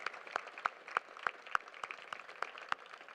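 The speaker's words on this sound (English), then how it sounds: "let's have a round of applause for Sam Allen" At a keynote address, scattered handclaps from a modest crowd, fairly quiet and distant, with sharp individual claps popping out over a soft wash of clapping.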